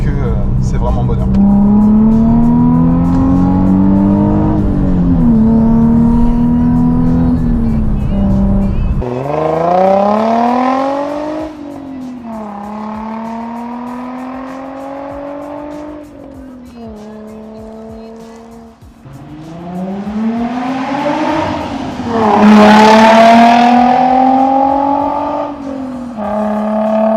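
A Nissan 350Z sports coupe driving, its engine droning from inside the cabin and rising in pitch through several gears under acceleration, with dips at shifts and a loud rev building toward the end.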